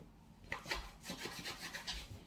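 Rubbing and scraping as a storage basket is cleaned out and wiped down, a series of close, dry rasping strokes with soft knocks, steady and fairly quiet with no talking.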